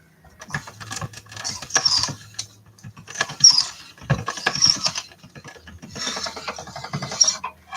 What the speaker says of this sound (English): So I just got this pasta roller off eBay a long time ago.